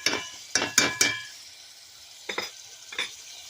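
Onions softening in a hot pan on a home stove, with a few bursts of sizzle and scraping as they are stirred, separated by quiet stretches of low frying.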